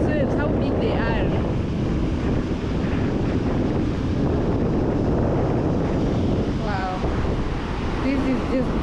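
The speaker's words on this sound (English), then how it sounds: "Look at those waves, how big they are." Big ocean waves wash onto the beach at Diani, Kenya, a loud continuous roar of surf mixed with heavy wind on the microphone, with faint voices now and then.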